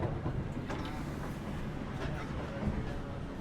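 Gajayana passenger train running on the rails, heard from inside its new dining car: a steady low rumble with faint rhythmic clatter throughout, under a little background noise.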